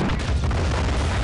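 A deep, booming artillery shot in the war strategy game Men of War: Assault Squad rolls out loud and continuous, a dense low rumble filling the short moment with no voices.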